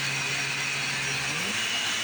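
A Bissell CleanView Revolution 3595-2 upright vacuum cleaner runs steadily and loudly, a continuous close whine and airy roar with a motor tone that shifts slightly partway through.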